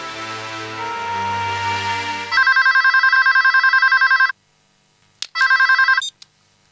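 A telephone rings loudly in two bursts of rapid electronic trilling, with a pause between them and a short final chirp, following a sustained tonal chord at the start.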